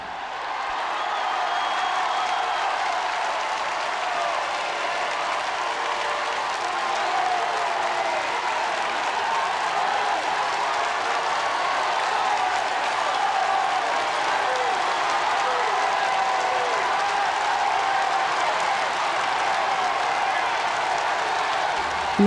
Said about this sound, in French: tiré au galop par les chevaux que la foule acclame